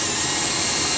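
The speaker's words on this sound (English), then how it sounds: "I'm going to go ahead and run my self-tapper through" A self-tapping screw is driven into a pilot hole while a commercial door closer is fitted to a storefront glass door, giving a brief, steady grinding whir at close range.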